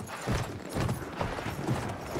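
Galloping horse hooves thud in a quick repeating rhythm in the World War I shooter Battlefield 1, close and prominent for a short stretch.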